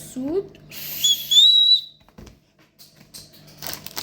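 A small toy whistle from a chocolate surprise egg gives one sustained, shrill blow close by, rising slightly in pitch, with quiet handling noise around it.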